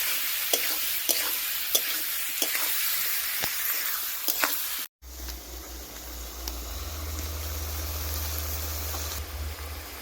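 Prawns frying in oil over a wood-fired stove, a steady sizzle broken by scraping stirs for the first half, then a denser, continuous hiss after a brief cut, with no voices.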